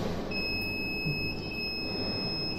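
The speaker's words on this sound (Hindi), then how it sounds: "और उसके बाद दो जोर से बीप बजेंगे और आपका सिस्टम रीसेट से बाहर आ जाएगा।" An IBIS controller coming out of reset gives a long steady electronic beep tone over a constant background hum, clear and close with no voices.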